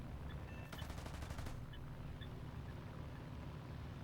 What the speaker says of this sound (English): these 50 cals with these tracer belts just set absolutely everything on fire